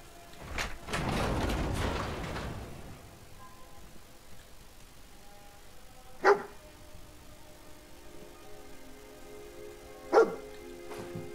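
A dog barks in the video game Fallout 4, two short sharp barks spaced a few seconds apart over quiet game ambience, after an early burst of rustling noise.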